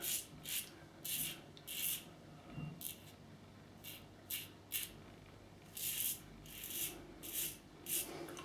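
A Carbon CX-316L razor glides lightly over lathered skin in short, repeated strokes, each a close, soft rasping scrape separated by brief pauses, with no talking.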